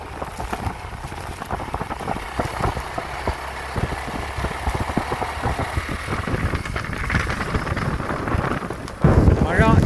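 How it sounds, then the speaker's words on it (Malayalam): Steady rain patters and hisses throughout near Malampuzha Dam, with a low rumbling engine-like background and a louder gust of noise near the end. "പെയ്തുകൊണ്ടിരിക്കുന്നുണ്ട് മഴ"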